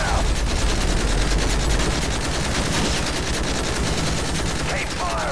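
Rapid sustained automatic gunfire aimed at an enemy helicopter in a Call of Duty game, dense overlapping bursts of shots at close range with a shouted voice mixed in.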